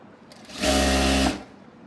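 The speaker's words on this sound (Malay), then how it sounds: "Kita teruskan jahit sampai ke hujung" A sewing machine stitches fabric for a telekung prayer garment in one close, loud, continuous run of under a second, with quiet before and after.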